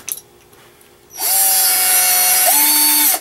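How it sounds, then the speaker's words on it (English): A power drill drilling a pilot hole for a screw spins up sharply and whines steadily for about two seconds, its pitch dipping briefly as the bit bites in, then stops abruptly. "drill a pilot hole through there for the screw to go"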